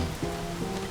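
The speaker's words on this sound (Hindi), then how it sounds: "इतनी बारिश हो रही है" Steady rainfall during a downpour, a dense even hiss of drops on surfaces with no breaks, heard alone over one brief moment.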